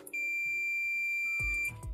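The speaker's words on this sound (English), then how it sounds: "This is buzzer." A Fluke 115 True RMS digital multimeter gives a steady high-pitched continuity beep that holds for over a second, close and clear, followed by low thumps from handling.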